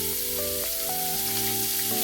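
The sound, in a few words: chopped onions frying in oil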